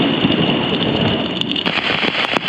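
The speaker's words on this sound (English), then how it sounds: "So it's raining so hard that I got a little bit of a water bed." Heavy rain during a thunderstorm pours onto a campsite tent as a loud, dense, constant hiss, with a few sharp drop impacts standing out close to the microphone.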